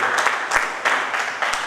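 An audience at a party foundation-day gathering applauds as two sisters stand up, a loud dense burst of clapping that swells in waves across the short stretch.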